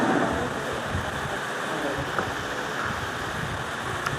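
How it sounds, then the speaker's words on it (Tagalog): Steady wind rushes and buffets the microphone in a continuous low roar, with faint indistinct noise underneath. "Malakas ang hangin, ha?"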